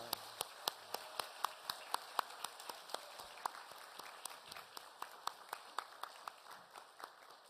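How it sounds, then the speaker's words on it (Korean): A church congregation at a Sunday service claps in a sparse, scattered way, with crisp individual claps spread across the room at a moderate distance, steady and fairly quiet. "격려의 박수 한번 더 해주시기 바랍니다."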